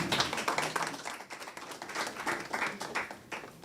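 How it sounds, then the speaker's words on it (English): Audience applause for Minister Hannah Martin at a 2022 National Spelling Bee greeting, a steady crackle of many hands clapping together, fairly close and sustained for a few seconds with no talking. "Let's give her another round of applause"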